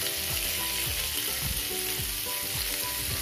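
Paneer tikka cooks on a grill pan, brushed with clarified butter, making a loud, continuous close-up sizzle with faint rhythmic crackles and no voices.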